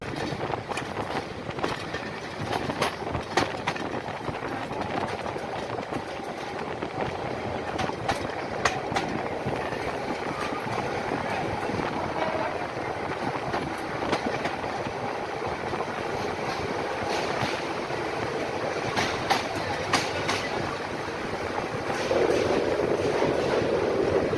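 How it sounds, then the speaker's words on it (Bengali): Jamalpur Express rolling into Jamalpur Town Junction, with a steady, loud rumble of wheels and carriages, rhythmic clickety-clack over rail joints and a continuous engine drone throughout. "আমাদের ট্রেন এই মুহূর্তে প্রবেশ করলো জামালপুর টাউন জংশন"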